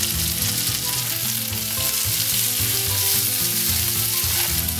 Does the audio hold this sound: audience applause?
no